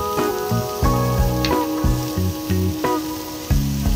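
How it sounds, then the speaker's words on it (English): Onion fries in a pan for chipotle lamb chops, a close, steady sizzle over a repeating hum-like tonal pattern, with several brief stirring clicks. "Stir in the onion and cook for a couple of minutes."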